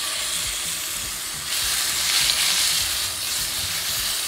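Strip filet mignon steaks sizzling in a hot oiled pan, a dense, steady frying hiss close up that swells louder partway through, with no voices.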